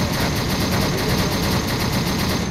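Machine gun fire in the military shooter game Arma 3, set in a Vietnam-era deployment: a steady, rapid stream of automatic shots rattles continuously for a couple of seconds, fairly loud with no talk over it.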